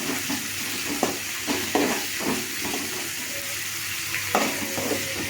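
Mustard seeds, chana dal and green chillies fry in hot oil for tomato sambar, a continuous close sizzle with soft crackles and occasional stirring taps of a spoon in the pan.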